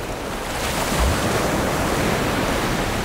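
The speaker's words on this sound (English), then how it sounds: "I could sit by the sea, hear the ocean roar" Ocean surf in the Maldives rolls in as a steady, full roar of breaking waves, close and loud, with some wind buffeting the microphone and no voices.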